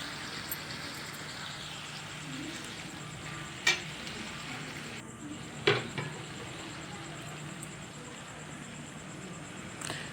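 Young jackfruit sautéing over a low gas flame, giving a steady quiet sizzle with a few sharp clinks of stirring utensils, close by and without talk.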